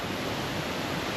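Tok Tok waterfall on the Everest Base Camp trek in Nepal roars as a steady, dense broadband rush of falling water, loud and continuous with no voices.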